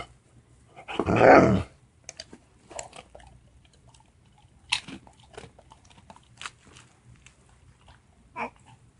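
A puppy gives a short low growl, followed by soft scattered chewing and crunching sounds, fairly quiet and close.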